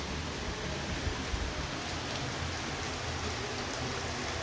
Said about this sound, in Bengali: বাইরে মুসলধারে বৃষ্টি হচ্ছে